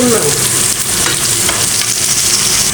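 Chopped green chili and ginger fry with browned onions in a pan, a loud continuous close sizzle with stirring throughout and no voices.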